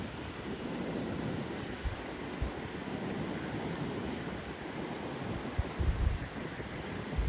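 Sea waves wash along the shore at Thal near Navgaon, Alibag, a steady broad rush of surf mixed with wind buffeting the microphone, with a few louder thumps near the end.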